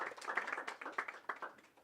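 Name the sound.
audience clapping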